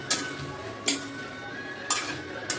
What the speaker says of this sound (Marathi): आता आपण ते मिक्स करून घेऊया.